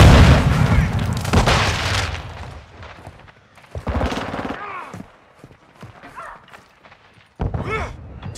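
Gunfire and a grenade explosion in Call of Duty: Modern Warfare II, a loud opening burst of shots and booms, then scattered bangs and a heavy blast later, with in-game voices calling out.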